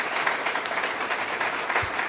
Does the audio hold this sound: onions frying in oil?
no